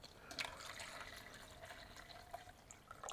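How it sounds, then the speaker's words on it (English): Water mixed with fertilizer pours into a potted Philodendron Shangri-La cutting during repotting, a soft, steady trickle with a few faint drips, close by and without voices. "I'll put some water with fertilizer in it."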